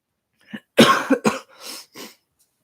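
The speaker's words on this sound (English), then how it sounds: "I always have to cough at some point." A few sharp coughs close to the microphone, a quick burst followed by a couple of softer, trailing coughs and throat clearing.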